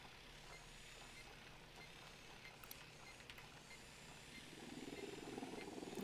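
A helicopter flies in the video game Ghost Recon Wildlands, a low, faint rotor rumble that swells louder toward the end, with no talking.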